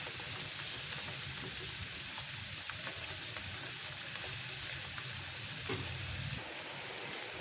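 Mushrooms and dried shrimp fry in a pan with a steady, dense sizzle that stays at a constant level throughout, and a few soft clinks of a utensil stirring come through close up.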